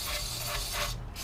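Aerosol cleaner sprayed into a car's throttle body: a loud, close, continuous hissing spray lasting about a second before it briefly cuts off.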